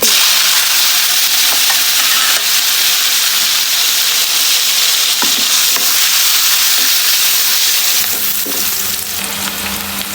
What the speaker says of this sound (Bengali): তেলে দিয়ে দেবো দুইটা শুকনো মরিচ দারুচিনি এলাচ লবঙ্গ এখন দিয়ে দেবো